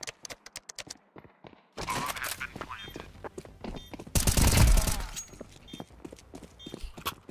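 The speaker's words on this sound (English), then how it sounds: "That's a deagle." Desert Eagle pistol shots in Counter-Strike 2, a run of sharp cracks followed by a dense loud burst of gunfire midway, with players chatting in the background.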